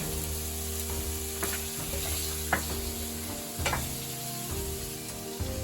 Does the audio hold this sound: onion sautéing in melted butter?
yes